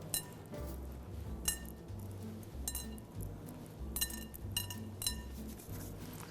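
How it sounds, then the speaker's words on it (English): A metal fork clinks repeatedly against a bowl while mixing ingredients, bright taps over a low background hum. "So I'm using a fork just to kind of get it combined"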